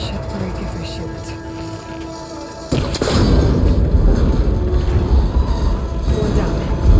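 In Horizon Forbidden West, an arrow strikes a cable connector on an old tower and triggers a sudden loud burst, then a thick, heavy rumble that keeps going for several seconds as people talk over the scene.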